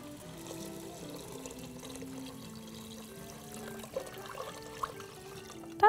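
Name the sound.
water poured from a jug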